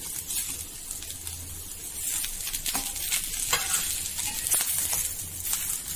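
Garlic, ginger and grated dry coconut roast in a pan with a continuous close sizzle and frequent stirring scrapes, fairly loud and steady throughout.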